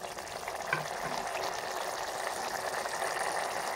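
Pea and field bean curry simmering down in a pan as its water cooks off, a soft steady sizzle and bubbling, faint and continuous with no voices.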